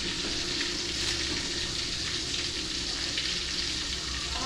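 Fish frying in a pan with curry leaves added, giving a steady, close crackling sizzle that holds evenly throughout with no talk.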